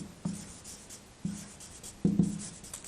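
Marker strokes on a classroom board come in three short bursts of scratchy squeaking, near and fairly loud, with a pause between each.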